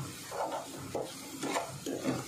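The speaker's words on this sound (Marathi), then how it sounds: "कांदा जरा परतून घेते मी" Salted chopped onion is stirred in a hot pan, giving four soft, rhythmic scraping strokes over a faint, quiet sizzle.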